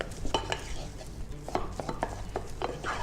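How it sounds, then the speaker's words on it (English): A spoon whips churro dough with egg in a bowl, making quick repeated wet slapping strokes and light scrapes against the bowl, close and alone. "So just whipping that through with your spoon"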